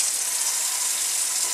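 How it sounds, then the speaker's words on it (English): Water runs steadily from a tap while a shampoo bar is rinsed, a continuous close hiss and gush with no speech. "go ahead and rinse it all off here so it absorbs all the water that's coming through this way."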